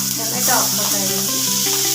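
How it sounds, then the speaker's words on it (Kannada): Tomato drops into a frying pan of hot oil with cumin, chillies, onion and garlic, producing a loud, constant sizzling hiss under steady melodic background music, no voices. "ಟೊಮೆಟೊ ಹಾಕ್ತಾ ಇದ್ದೀನಿ."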